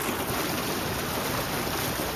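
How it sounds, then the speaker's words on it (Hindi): Water rushes steadily into the tank of a hydraulic ram pump in a village water project, a dense continuous roar that is fairly faint and constant with no voices. "काफ़ी तेज़ी से अब पानी इन में आ रहा है"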